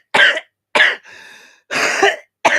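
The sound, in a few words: coughing fit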